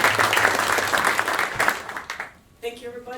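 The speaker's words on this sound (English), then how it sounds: "Give a big applause." A conference audience at a timber industry event claps in a dense burst that fades after about two seconds, and then a speaker begins talking.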